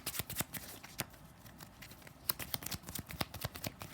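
Sleeved trading cards are shuffled up close, giving quick crisp riffles and soft plastic flicks in short bursts, with no talking.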